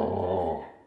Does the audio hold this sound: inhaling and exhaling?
no